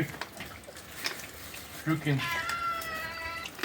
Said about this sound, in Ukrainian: Коти на місці. Ждуть уже.